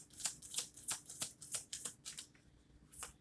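Tarot cards shuffled and pulled by hand at close range: a quick series of crisp riffling flicks in an uneven rhythm, quiet and without any voice.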